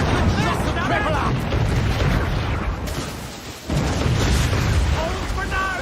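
Ship cannon fire in Assassin's Creed IV: Black Flag during a naval battle at sea, heard as loud repeated booms and rumbling blasts with shouted crew voices over the top throughout.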